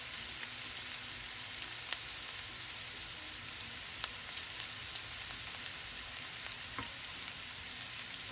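Onions softening in a pan for a vegetarian pasta, giving a steady, quiet broadband sizzle with faint crackles and a few sharp pops, continuous and even throughout with no talking.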